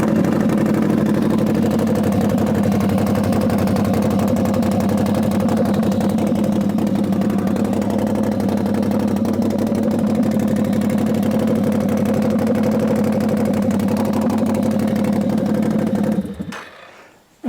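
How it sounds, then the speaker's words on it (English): Can-Am Outlander ATV engine running with no exhaust fitted, a loud, steady, raw idle drone held close and constant for about sixteen seconds before cutting off abruptly. "Let's fire it up with no exhaust on it"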